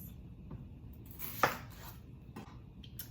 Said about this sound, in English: So now I'm going to cut up probably 4 more onions